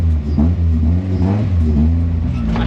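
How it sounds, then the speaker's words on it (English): A Honda CRX with a B18 engine catches after a bump start, a steady loud engine rumble with rising revs and a whirring note throughout, close by with no talk. "You tried to bump start it?"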